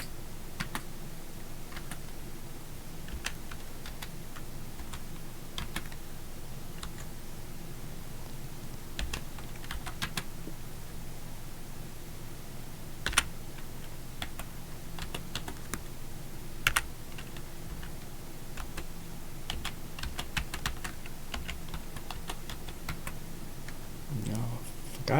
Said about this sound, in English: I'm just typing that in there.